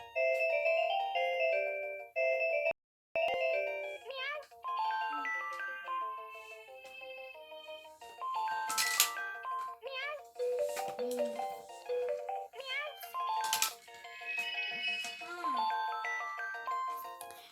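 A Gabby's Dollhouse toy phone plays its ringtone options, bright electronic chiming melodies and jingles one after another with short pauses, fairly close, with a child-like voice mixed in.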